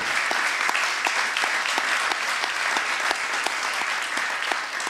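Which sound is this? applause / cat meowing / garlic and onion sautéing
applause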